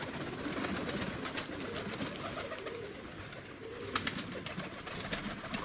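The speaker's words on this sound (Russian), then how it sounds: "Вот я своих голубей выпустил." Fighting pigeons coo near a loft in Tbilisi, Georgia, just after being released, low throaty cooing repeating over a faint outdoor background with a few wing flutters and scattered clicks.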